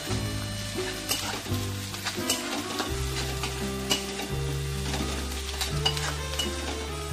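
Onion frying golden in a pan with turmeric: a soft steady sizzle with spoon stirring taps, layered over a low droning hum, no voices.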